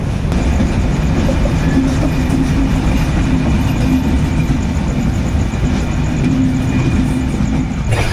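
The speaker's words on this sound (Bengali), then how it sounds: "এখন বাজে রাত 2:30টার সময় আমাদের ট্রেন ছাড়লো।" Padma Express passenger train running at night in the Ullapara, Sirajganj area, heard from inside as a loud, steady low rumble and rattle of rolling carriages with faint clickety-clack, continuous throughout with no talking.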